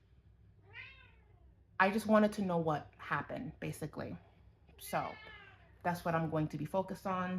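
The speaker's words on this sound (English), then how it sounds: "That is my cat meowing." A house cat meows, one drawn-out meow first, then more meows heard faintly and intermittently beneath a person talking nearby.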